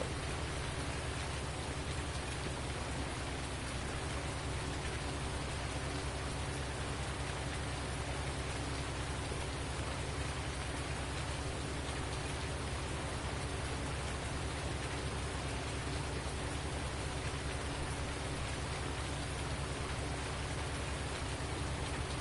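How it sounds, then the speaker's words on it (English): Steady, even rainfall hisses without pause in the video game Oak Hill, a soft uniform patter with no voices or other distinct sounds. "this rain, I tell you, it's killing me"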